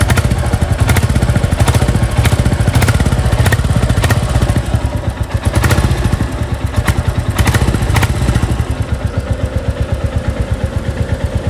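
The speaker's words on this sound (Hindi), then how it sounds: "आप एग्जॉस्ट नोट सुनिए।" A Royal Enfield Classic 350 motorcycle idling with a deep, steady thumping exhaust beat, loud and close, with occasional revs and mechanical clatter and no talking.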